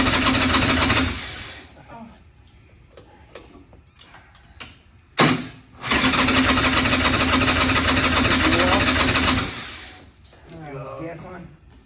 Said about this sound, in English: So this is the easiest fucking bike I think I've ever started.